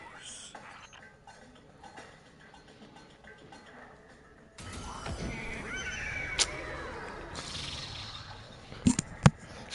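Horse neighing in Destiny 2, a whinnying call rising out of game ambience midway, followed by sharp clicks and chimes, with low speech-like sound throughout.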